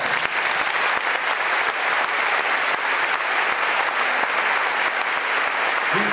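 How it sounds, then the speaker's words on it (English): Dense, sustained applause from a large conference audience fills the room at a steady level, with a brief voice surfacing near the end. "please give them a big round of applause"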